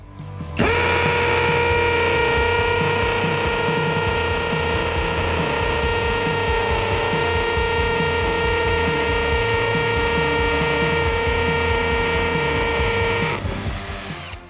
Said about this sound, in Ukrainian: З легкістю можна зробити отвір під дюбель в цеглі.